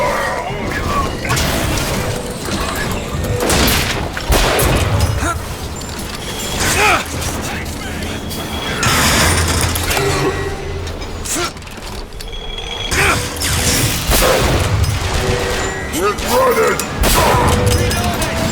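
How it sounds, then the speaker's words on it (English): Rocket explosions in the BioShock Infinite shooter, several heavy booms and crashes with mechanical clatter and debris spread across a loud, busy combat scene, with people speaking at times. "Rockets, watch out!"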